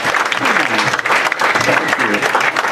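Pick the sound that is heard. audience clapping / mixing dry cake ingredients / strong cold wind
audience clapping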